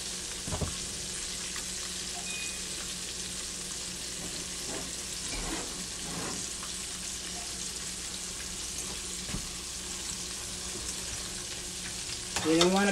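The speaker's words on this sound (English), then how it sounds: "You see as I fry it." Chicken fried steak sizzles in hot oil in a skillet, a dense, steady crackling hiss that carries throughout with occasional clinks and stirring sounds, growing slightly louder at the very end.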